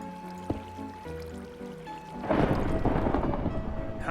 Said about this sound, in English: How can I hear the thunderstorm?